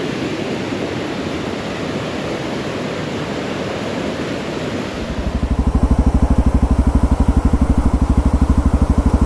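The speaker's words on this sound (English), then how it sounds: "Show you guys this beautiful river." A rushing mountain river pours in a steady broadband roar, then around the midpoint an old XR650L motorcycle engine starts idling nearby, its loud pulsing thump sitting over the water noise.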